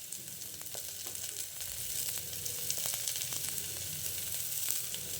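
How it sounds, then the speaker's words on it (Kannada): Bitter gourd and onion sizzle steadily as they fry in a pan, a continuous close, even crackle of hot oil with occasional small pops throughout. "ಇದು ಒಂದು 10 ನಿಮಿಷ ಫ್ರೈ ಆಗಲಿ"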